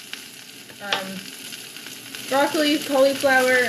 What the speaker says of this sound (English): My chicken's frying.